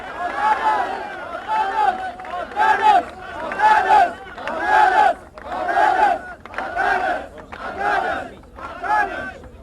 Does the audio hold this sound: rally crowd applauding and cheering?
yes